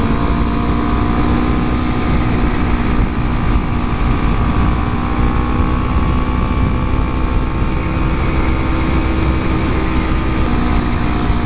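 A 2014 Honda Grom motorcycle engine runs steadily while riding, a loud continuous drone with wind rush held in the power band and no pauses.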